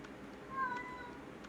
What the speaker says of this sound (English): Yeah, I hear you, kitty.